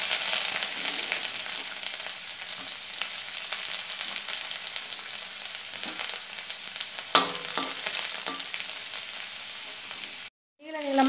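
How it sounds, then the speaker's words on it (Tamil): Finely chopped garlic frying in a little oil for leftover-idli manchurian, a steady crackling sizzle close up with occasional stirring knocks, briefly cutting out near the end before resuming. "இதில் கொஞ்சமாக நான் வந்து தூளாக கட் பண்ண பூண்டு போட்டுருக்கேன்."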